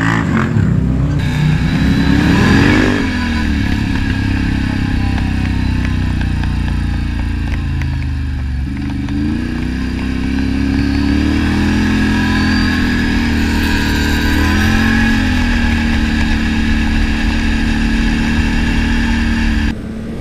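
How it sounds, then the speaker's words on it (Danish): A motorcycle engine drones steadily during a road ride, loud and close, with a brief rise in revs near the start and a constant rumble of wind and engine throughout. "jeg har taget ham med på motorcykelturen"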